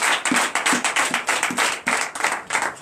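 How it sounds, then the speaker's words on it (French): A church congregation at a Sunday service claps in a fast, regular rhythm of loud, evenly spaced beats, nearby and continuous throughout. "Donne l'acclamation de Jésus."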